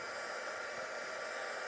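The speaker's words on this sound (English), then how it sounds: "That's just a heat gun there or a hairdryer or something." A heat gun or hairdryer blows steadily to dry and set wet paint on a hobby model, a constant close whooshing hiss of airflow with no change in pitch or level across the short stretch.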